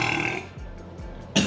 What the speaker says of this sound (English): Let's see if we can get some more burps going.